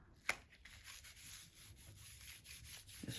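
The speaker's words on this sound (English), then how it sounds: "just rub it." Ink being rubbed by hand onto an embossed card background, a faint, steady, rhythmic scratchy rubbing with one sharper tap near the start.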